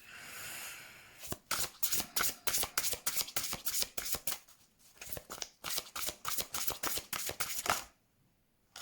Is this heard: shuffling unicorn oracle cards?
yes